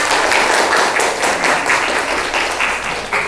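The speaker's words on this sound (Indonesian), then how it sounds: "Oke, tepuk tangan" Students in a classroom clap together in a short, steady burst of applause, loud and close, with no talk over it.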